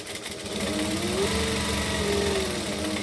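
A sewing machine runs at a steady, continuous whir, stitching around a Sandra saddle bag with the softer lining fabric underneath. The motor hum is close and fairly loud, with no talking.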